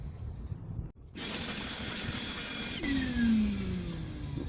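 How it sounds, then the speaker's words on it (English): Shop vacuum cleaning up cork debris from holes drilled in a sailboat deck during deck replacement, a steady close whooshing drone after a brief dropout, with a rising whine near the end. "Let's vacuum this."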